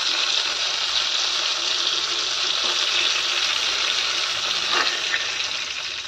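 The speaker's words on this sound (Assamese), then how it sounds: "লৰাই দিছোঁ লাহে লাহে মই" Food sizzles steadily in a hot frying pan as it is slowly stirred, a continuous close hiss with a few soft scraping strokes, and no talking.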